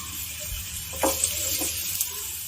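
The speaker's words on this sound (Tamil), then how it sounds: "இது நல்லா கோல்டன் ப்ரௌன் வர வரைக்கும் நம்ம வறுத்து எடுக்க போகிறோம்" Half a cup of crushed garlic frying in hot oil, an even, loud close sizzle with a couple of brief scraping stirs.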